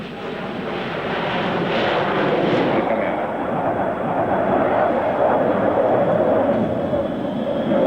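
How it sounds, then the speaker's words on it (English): An F/A-18 Hornet fighter jet's engine roars steadily overhead at an airshow, a broad rushing rumble that swells slightly and holds without letting up. "This plane, called a Hornet, is being flown by Steve Wild"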